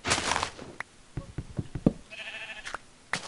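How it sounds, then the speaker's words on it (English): Sheep bleating in Minecraft, several short wavering bleats in a row alongside soft knocking and clicking game sounds, fairly close and clear. "Man, why is there so many demon spawn sheep?"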